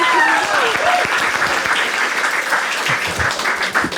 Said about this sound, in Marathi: छान छान, एकदा टाळ्या वाजायच्यासाठी.